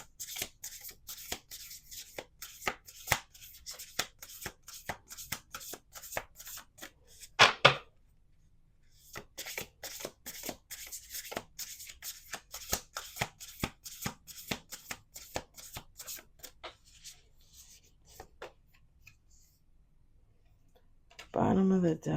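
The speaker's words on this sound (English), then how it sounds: "we're going to do 2 more shuffles." An oracle card deck is shuffled close to the microphone, giving a long, quiet run of rapid, light card clicks and flutters with a brief pause partway. Soft talk is heard in places.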